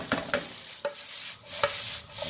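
Vegetable fried rice being stir-fried in a smoking hot pan, with a steady sizzle broken by several sharp scraping tosses of the spatula, close and fairly loud with no talking.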